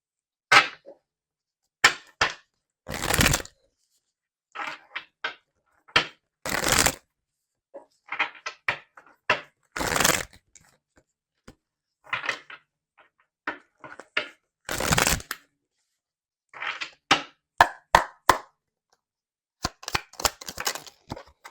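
Tarot cards being shuffled by hand in sharp, crisp bursts of riffling and slapping, repeated in irregular clusters through a quiet room with no talking.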